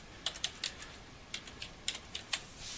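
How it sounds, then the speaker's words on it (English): Typing on a computer keyboard nearby, a quick irregular run of light key clicks in short bursts with pauses, heard alone in a quiet room. "Now I'm going to type something."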